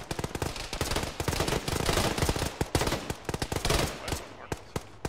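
Arma 3 machine gun fire rattles in sustained, rapid bursts, loud and close, with sharp repeated cracks running almost continuously before thinning into scattered shots.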